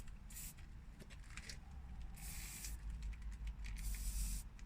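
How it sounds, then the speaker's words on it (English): Quiet hissing bursts of penetrating oil sprayed from an aerosol can during strut replacement on a Nissan Almera N16, three or four short squirts over a low background rumble, fairly faint and close. "And just give it a bit of a spray inside here as well."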